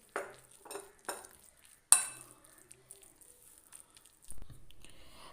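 A spoon stirs mayonnaise into a bread-pocket filling in a bowl, giving a few soft scraping strokes, one sharp clink against the dish, and a duller knock near the end, close and quiet.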